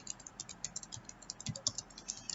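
Keys clatter on a computer keyboard as a command is typed at a server terminal, a quick uneven run of crisp close taps with a few louder strokes, heard alone with no talk.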